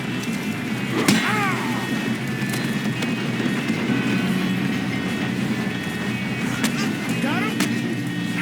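A train runs in Red Dead Redemption 2, its steady rolling rumble and clatter continuing throughout, with a few sharp metallic clanks and squeals scattered over the dense noise.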